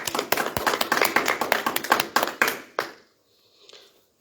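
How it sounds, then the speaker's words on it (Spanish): Scattered hand clapping from a small church gathering, a string of sharp, distinct claps that thin out and stop, followed by near silence with a faint trailing sound. "Un aplauso."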